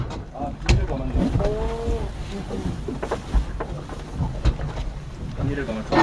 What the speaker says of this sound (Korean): 저 비닐이 감기면은 엔진을 식혀줘야 되는 냉각수가 안 들어와서 소리가 나죠.